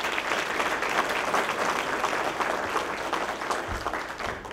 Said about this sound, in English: How about a round of applause for Greg Kilo?